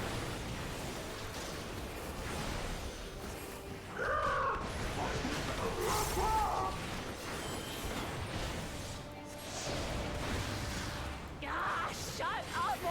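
A bird in the Final Fantasy XIV video game gives several harsh caws and squawks over a rumbling battle soundscape with effects and music, with short repeated calls spaced across the scene.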